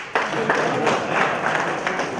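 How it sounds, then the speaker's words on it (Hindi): An audience bursts into applause at a felicitation and get-together ceremony held by a Ramlila association. The clapping starts abruptly and carries on as a steady, moderately loud patter from many hands. "तालियां"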